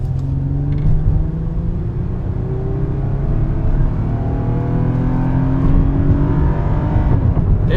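A V6 Toyota Avalon with a suspected bad ignition coil and misfire cruises a freeway, a loud continuous engine and road drone with rising whine as it accelerates through the gears.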